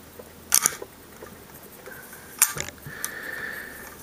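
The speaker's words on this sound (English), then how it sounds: "run the slide forward and press the left side shell stop" Remington 870 slide-action shotgun being disassembled, its slide run forward and the left-side shell stop pressed: two sharp, close metallic clacks about two seconds apart, each with a brief rattle, over a quiet background.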